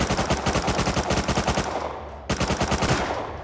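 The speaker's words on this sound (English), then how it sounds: "He took a shitload of shots, dude." Rapid automatic gunfire in the video game Rust during a rocket raid, a close, loud rhythmic burst of evenly spaced shots that pauses briefly before a second burst resumes.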